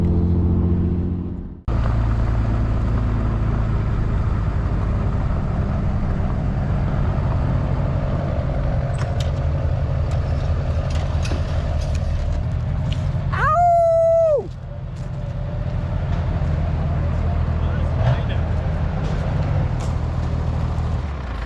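A straight-piped 454 big-block engine in a truck runs with a deep, steady, loud rumble that kicks in abruptly after a short pause, and a brief rising-and-falling whine cuts through it midway.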